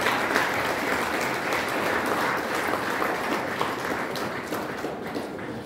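Sustained, dense applause from an audience fills the space, steady and loud throughout with no break.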